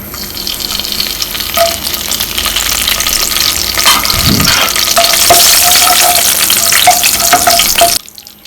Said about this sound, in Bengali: আমি একটু তেল দিয়ে নিচ্ছি, একটু দারচিনি, লং, এলাচি, তেজপাতা।